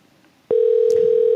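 A telephone sounds on a radio show phone line, a sudden steady electronic tone that starts after brief quiet and holds loud and close to the end, with no talking.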